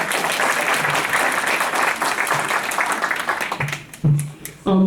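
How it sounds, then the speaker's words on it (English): A board meeting audience applauds a new staff member, sustained close clapping that thins out in the last second as a voice begins. "You can give her a bigger round of applause than that."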